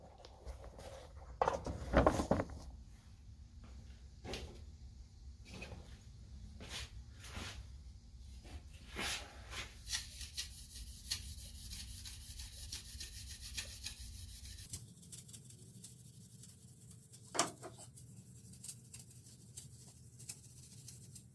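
A gray Scotch-Brite pad scuffing the chrome grill of a Chevy Tahoe: soft, close, repeated rubbing strokes that grow quieter and sparser in the final few seconds, with no talking.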